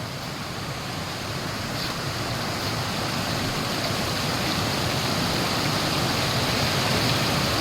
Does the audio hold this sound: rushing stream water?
yes